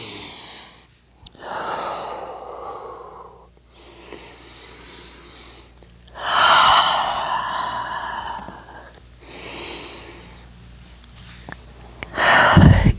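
Slow restorative yoga breathing, long deep inhales and exhales in alternating rounds, close and breathy, rising louder on some breaths with a faint hum beneath.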